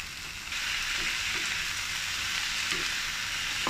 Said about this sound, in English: Add the broccoli into the pan.